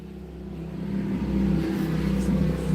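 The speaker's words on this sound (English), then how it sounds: "That was a motorcycle." A motorcycle passes nearby, its mid-range engine drone swelling steadily louder over a few seconds with no speech.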